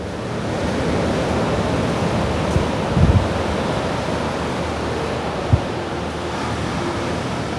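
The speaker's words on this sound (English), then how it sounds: "The waves are quite huge" Large Indian Ocean waves roll in at Long Beach, Sri Lanka, as a constant broad roar of surf with wind buffeting, broken by a couple of brief thumps.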